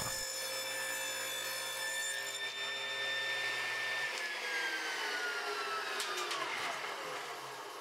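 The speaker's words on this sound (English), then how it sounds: "now I can safely cut super consistent thin strips without ever having to adjust the fence on the table saw" A table saw cuts thin wood strips, its blade whining steadily and close with a rising, shifting tone as the wood feeds through and the pitch drops near the end.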